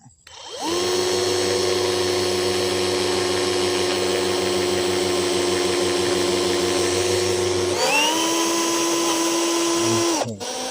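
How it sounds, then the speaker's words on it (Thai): A power drill bores into the center of a stiff household water valve handle, whining loudly and steadily for several seconds. It drops in pitch briefly partway through as the bit bites, then runs on before stopping. "วิธีการผมก็จะเจาะ ตัวหัวตรงนี้นะครับก็พยายามเจาะตรงกลางนะครับ"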